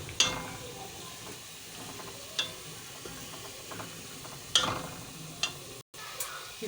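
Onions frying slowly over a low flame for a broad bean seed and mince dish, a soft steady sizzle with occasional louder spatters and scraping stirs.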